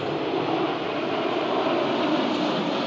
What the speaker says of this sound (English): Oh, plane.